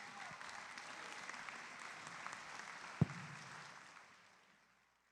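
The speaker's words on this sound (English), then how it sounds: "Let's thank them with a loud round of applause for all their work on your behalf." Audience at a FIRST robotics district event in Dripping Springs, Texas applauds the volunteers, a broad, fairly distant wash of many hands that holds steady with one sharp thump partway through, then fades out.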